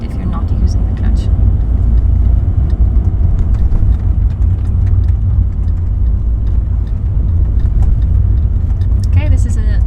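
A manual car's engine hums low and steady while driving in second gear, heard from inside the cabin under continuous talking.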